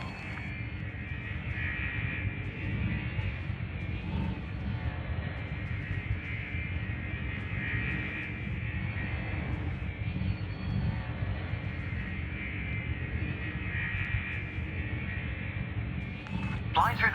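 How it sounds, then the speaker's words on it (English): Spaceship engine hum from the space game Elite Dangerous as the ship flies through checkpoints in an orbital structure, a steady continuous drone throughout. "Your next task is to guide your ship through a series of checkpoints."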